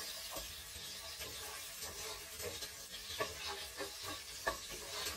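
Food sizzles steadily in a hot pan while being stirred, a soft hiss with occasional scrapes and pops, fairly quiet and without talk, during the cooking of Cameroonian-style fried rice.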